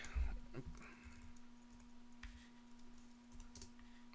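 Quiet computer keyboard typing of a short search word, a few soft close clicks early on, then sparse taps over a faint steady hum.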